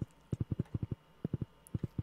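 Horse hooves clip-clopping in Stardew Valley, a farm simulator game: quick, evenly spaced hoofbeats in short runs of three to four, clear and moderately quiet, with no talk.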